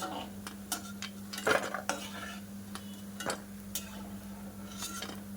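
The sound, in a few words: scooping fried chana dal from pan onto a plate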